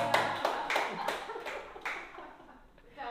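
An audience at a church service in Indonesia claps hands, a dense patter of claps that starts loud and thins out over a few seconds.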